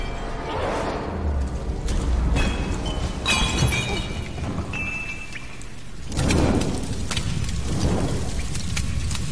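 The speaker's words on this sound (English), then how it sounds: "so that explosion rocked my hearing" An explosion in the 2013 Tomb Raider video game crashes and shatters with debris and booming rumble, a loud layered burst that swells again later under a sustained roar.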